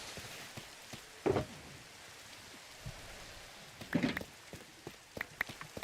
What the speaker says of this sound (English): It is raining, yes.